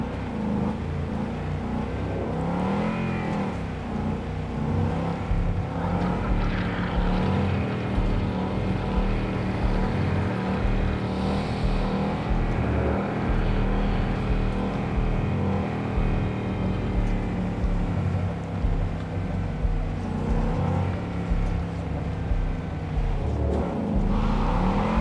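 A car driving in Cyberpunk 2077 with a steady engine drone and road rumble that hold for the whole stretch. Mild revving swells come and go, with no talk.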